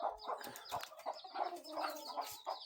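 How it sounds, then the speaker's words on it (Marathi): Hens and tiny chicks cluck and peep in quick, scattered calls at a village farmyard in the early morning. The calls are close and fairly soft, with no talk. "कवडीशी पिल्ले आहेत बघा लहान लहान."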